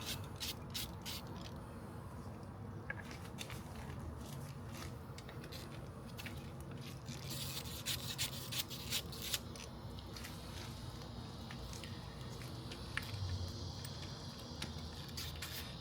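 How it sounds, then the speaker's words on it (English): A ratchet with an 8mm socket loosens the bolts of the oil filter housing cover on a Suzuki DR650 motorcycle, giving a continuous run of quiet, rapid metallic clicks close by. "Then I will take off the oil filter housing cover. Like I said, 8mm socket."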